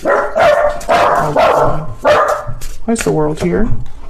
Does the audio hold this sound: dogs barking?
yes